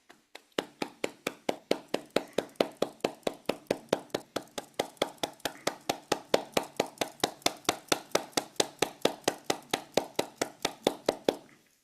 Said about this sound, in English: we'll applaud by clapping our hands for 30 seconds